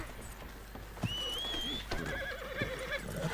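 Horse in a Wild West roleplay video game lets out a loud, wavering neigh up close, followed by a second shorter whinny, with hoof clatter and game noise around it.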